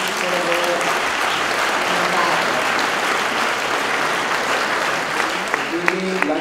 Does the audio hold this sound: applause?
yes